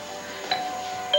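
A doorbell rings in an indoor scene from a 1988 TV soap opera: two brief, moderately loud chimes a little over half a second apart, heard alone with no talking.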